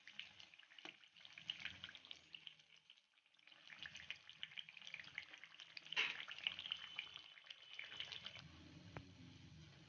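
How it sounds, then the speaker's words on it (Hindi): Moong dal kachoris deep frying in hot oil, a steady close sizzle and crackle running throughout with soft bubbling swells, no voices. "कचौड़ियाँ फ्राई हो गई हैं।"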